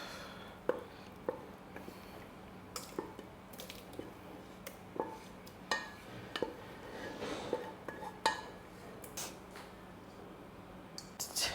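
Stew is scooped from a pot into another bowl, with soft scraping, clinks of utensil against cookware and wet squishy thuds, scattered and irregular at moderate distance.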